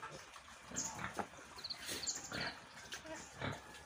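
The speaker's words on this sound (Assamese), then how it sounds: "এয়া হৈছে মোৰ মাংসৰ বাবে ৰখা খাহী এটা আৰু এটা মাইকী গাহৰি" Pigs on a farm in Goalpara, Assam, a castrated boar kept for meat and a sow, give a run of close grunts and snorts, with a few faint bird chirps above.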